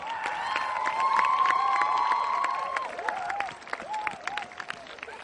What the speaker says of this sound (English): may we have one more round of applause for these amazing young men and women